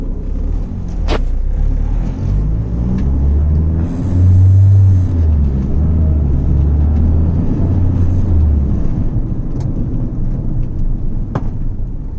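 Acura Integra project car with solid motor mounts driving, a steady close engine and road rumble from inside the cabin that swells briefly midway before settling back to a continuous drone.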